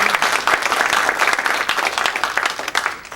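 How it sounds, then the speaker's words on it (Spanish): An audience at a hydropower engineering seminar applauds, a dense, steady burst of many hands clapping that fills the room for a few seconds. "por favor también un aplauso"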